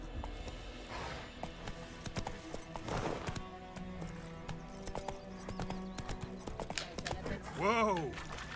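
Roach, the horse in The Witcher 3 game, gallops with rhythmic clip-clopping hooves under background music and talk, ending in a sharp whinny near the end.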